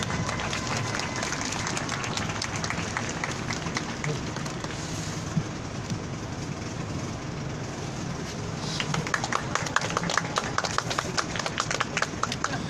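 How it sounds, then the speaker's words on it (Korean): Sustained applause from a crowd at an outdoor weekly protest rally as high school students are welcomed to speak, dense and continuous clapping throughout with some brighter claps near the end. "박수로 맞아주세요"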